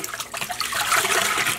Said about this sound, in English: See, now I filled this all up with water